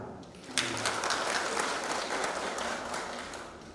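A church congregation bursts into applause, a steady wash of many hands clapping together for a few seconds, moderately distant and fairly soft.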